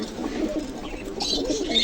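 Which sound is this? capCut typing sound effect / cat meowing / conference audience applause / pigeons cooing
pigeons cooing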